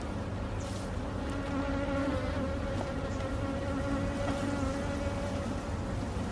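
Honeybees buzz at an opened hive during an inspection in Jamaica, a dense, continuous near drone of many bees, with individual bees passing close to the microphone and no talking.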